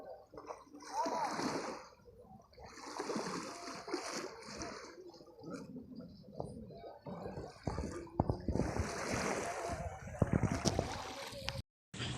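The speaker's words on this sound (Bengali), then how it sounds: "এত দোল খাচ্ছে জাহাজ যাওয়ার পরে" Small boat rocking on choppy river waves after a passing ship at Diamond Harbour, with repeated splashing and sloshing water against the hull in bursts, close and moderately loud, with a voice talking at times.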